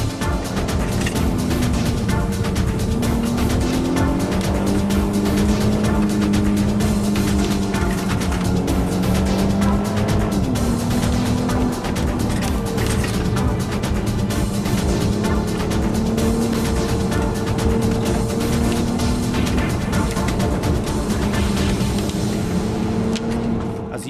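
An R32 car driving up a mountain road, its engine droning loud and continuous from inside, the pitch rising and falling as it shifts and accelerates, with heavy road and wind noise underneath.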